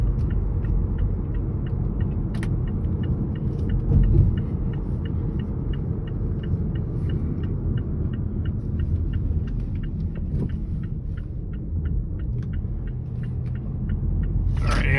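A 2014 Mazda 6 engine at full throttle, heard from inside the cabin as a loud, steady low rumble and drone with a faint rhythmic ticking above it.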